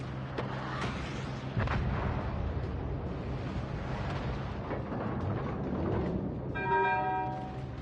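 Battleship guns firing in the naval video game World of Warships Legends, several heavy booms with rumbling tails over a steady low background, followed by a short tonal game alert at the end, no talk.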